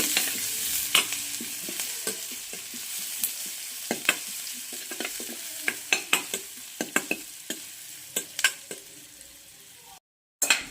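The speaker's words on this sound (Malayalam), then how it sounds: "അതിനുശേഷം ചെറിയുള്ളി, വെളുത്തുള്ളി, കറിവേപ്പില. ഉണക്കമുളകില്ല, അതുകൊണ്ടിട്ടില്ല. നന്നായിട്ട് വഴറ്റാം." Shallots, garlic and curry leaves sautéing in hot oil, a continuous close sizzle broken by frequent sharp clicks and scrapes of a spoon stirring against the pan, with a brief dropout near the end.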